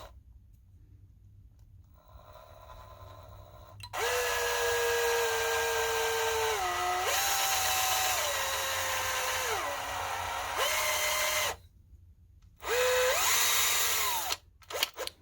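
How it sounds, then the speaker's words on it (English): A power drill with its bit grinding through a decorative star ornament made for handmade decor, whining loudly in long bursts whose pitch drops as the bit bites and climbs again, broken by short pauses. "I had to flip it over and start at the point to get this drill bit to go all the way through the star"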